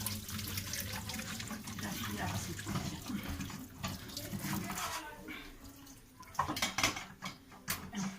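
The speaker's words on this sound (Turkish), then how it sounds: "Sonra suyunu süzdürüyoruz." Water drained off in a kitchen sink while slime is being made: running, splashing water with light clinks of a bowl or utensils, fairly close, uneven and fading toward the end.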